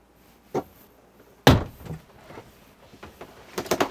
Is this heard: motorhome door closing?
yes